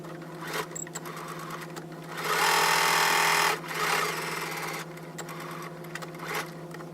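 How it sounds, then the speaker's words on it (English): A sewing machine stitches a half-inch seam straight across thick layers of a tote bag. It hums steadily and surges into a louder, faster burst of needle chatter midway before slowing again. "we're going to sew a 1/2 inch going straight across"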